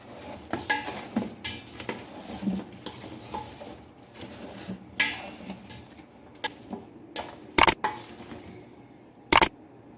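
Spiced mango pickle being mixed by hand in a bowl with turmeric and chilli, giving soft scraping and stirring sounds, light clinks and rustles, with two sharp knocks near the end.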